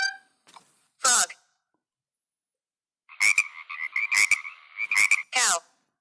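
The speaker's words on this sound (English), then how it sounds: "Frog." Frog croaking in a series of raspy, rhythmic calls lasting a couple of seconds, loud and close, after a brief spoken word.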